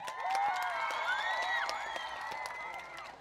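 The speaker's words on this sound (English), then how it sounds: "It is absolutely okay to cheer and clap for your friends when they're done" An audience at a school talent show cheering and clapping, with excited high-pitched children's voices whooping over steady applause.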